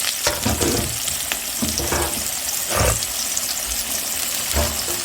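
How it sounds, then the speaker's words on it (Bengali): Loud crackling sizzle of chopped onions frying in hot oil with potatoes, with scraping and stirring clatters against the pan throughout. "এবার আমি দিয়ে দিচ্ছি পেঁয়াজ কুচিগুলো"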